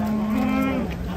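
An agitated cow being unloaded moos loudly and close by, one long strained bellow with a rough, agitated edge, filling the whole moment without any talk.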